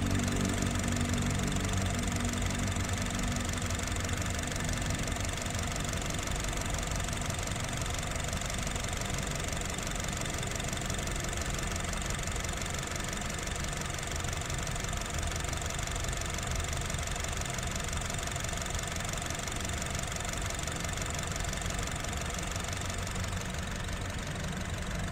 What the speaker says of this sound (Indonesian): Teman-teman bisa dengar sendiri suara irama mesinnya.